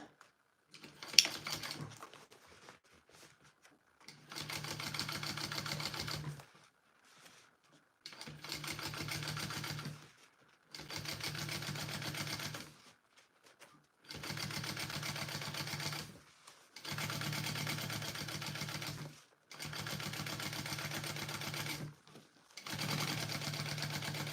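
Short bursts of a sewing machine topstitching through a zipper panel seam on a lining, each run lasting a couple of seconds and separated by brief pauses, with a close, steady mechanical whir and clatter.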